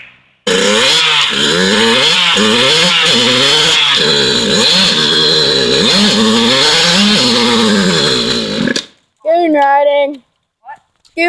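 A dirt bike engine revving hard while being ridden, a loud buzzing whine rising and falling repeatedly for several seconds before cutting out, followed by short bursts of speech.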